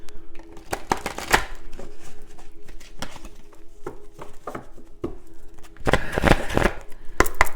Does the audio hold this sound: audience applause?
no